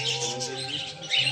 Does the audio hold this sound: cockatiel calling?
yes